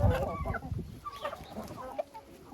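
Hens in a coop give soft, scattered clucks and short calls at close range, irregular and fairly quiet, with no talking.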